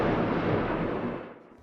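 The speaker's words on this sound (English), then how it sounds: "Explosions were heard." A deep, rolling explosion blast from a missile attack on Kyiv, a broad heavy rumble that fades away after about a second.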